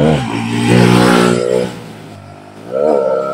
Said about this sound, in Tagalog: Grabe makapatakbo ng motor.